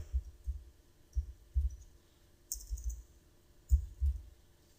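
Soft computer mouse clicks, a series of low dull taps in small groups over a faint steady room hum, with no one talking.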